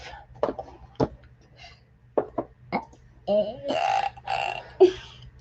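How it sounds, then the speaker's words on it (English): A single burp rises among scattered short vocal bursts and laughter in a quiet room, with people talking between the sounds. "You did not fart. You burped."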